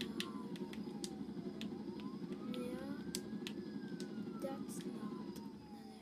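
A fire engine siren in the Roblox game Jailbreak wails in rising and falling sweeps, steady and moderately loud across the whole stretch, with faint game noise and occasional clicks underneath.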